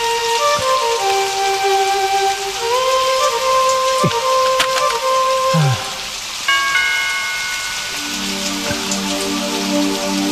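Sudden rain falls as a steady, dense hiss that fills the whole stretch, with sustained musical tones and a few bright chimes layered over it in an Indonesian TV drama scene.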